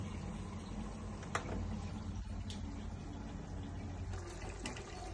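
Water from 70% boiled bullet rice is strained off, making a faint, steady pouring hiss and splash with a few small clinks.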